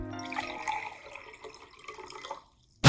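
Water poured into a glass sitting on top of a penny, a short splashing, trickling fill that tapers off into silence before a sudden loud knock at the very end.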